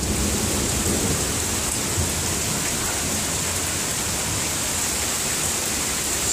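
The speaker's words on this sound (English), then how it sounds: "So it's raining a lot. And thunder." Heavy rain pours steadily during a Missouri thunderstorm, a dense, even hiss with low rumbles of thunder rolling underneath, continuous and fairly quiet overall.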